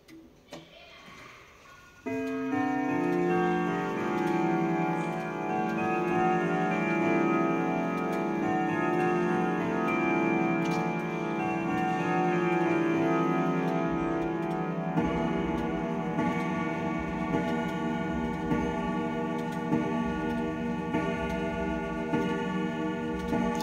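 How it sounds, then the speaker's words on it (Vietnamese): An imported American grandfather clock with twelve gongs and twelve hammers ticks steadily and evenly after its pendulum is released, close and clear, with a sustained ringing chime tone layered over the regular ticks. "Sau em thả tay ra thì chiếc đồng hồ sẽ hoạt động."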